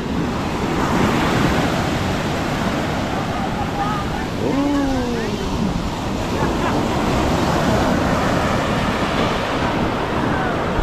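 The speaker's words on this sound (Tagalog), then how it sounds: "Lakas ng alon. Kanina pa ho yan." Strong ocean waves crash continuously onto a beach shore in Zambales, a loud, unbroken roar of surf mixed with wind buffeting the microphone, with faint voices now and then.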